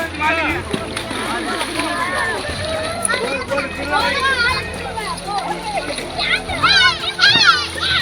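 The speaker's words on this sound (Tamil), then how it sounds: "வாங்க போயிட்டு 4 குதிச்சுட்டு வந்துடுவோம்." Children shout and chatter excitedly while splashing in river water at Poolampatti, with sloshing and splatter close by under their lively voices.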